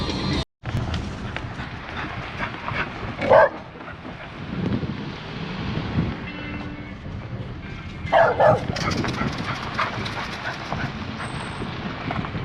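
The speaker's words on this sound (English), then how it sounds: "Crazy dog. Chased me on the way in and chased me on the way out." A dog barks outdoors near a North Georgia waterfall trail, two short loud bursts spaced several seconds apart over steady wind and rustling.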